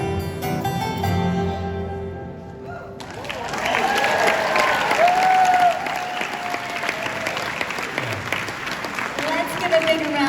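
A live country music show audience breaks into applause and cheering as a song ends, with dense clapping and whoops filling the room and voices mixed in.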